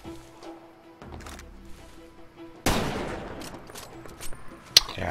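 Gunfire in Far Cry 2: a loud burst erupts midway and rings out, followed by scattered sharper shots. Before it there is quieter game ambience.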